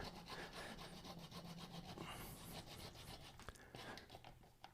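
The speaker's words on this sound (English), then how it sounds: "this is the only part I'll need to sand up" Sandpaper rubbing steadily across a turned walnut wood vase, a continuous close scratchy friction with slight rhythmic strokes and a brief sharp tick near the end.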